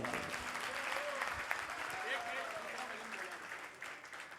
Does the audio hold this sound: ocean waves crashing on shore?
no